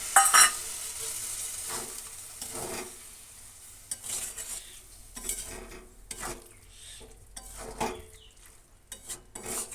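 Prawn, potato and ridge gourd curry sizzling in a pan as water goes in, with a steady bubbling hiss and repeated stirring scrapes and utensil knocks, close and moderately loud with no talking.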